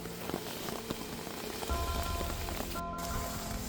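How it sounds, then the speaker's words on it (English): Heavy rain from Cyclone Alfred falls at a bush encampment, a dense, steady wash of drops pattering on surfaces with no talking. "And this crazy, crazy rainstorm."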